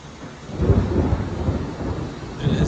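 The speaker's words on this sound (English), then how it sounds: "got some lightning and thunder too." Thunder rolls during a summer rainstorm in the Dallas–Fort Worth area of Texas in August, with deep rumbles rising and fading over a steady wash of rain and no voices.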